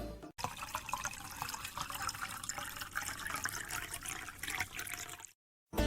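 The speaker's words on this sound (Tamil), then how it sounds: "கிணத்துல இப்போ தண்ணி ஊத்திடலாம்." Water pours into a miniature model well in a continuous, close trickling splash that holds steady for several seconds before cutting off.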